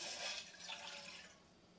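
One cup of water poured into a pot for making milk tea, a steady splashing wash of liquid heard up close with no talking.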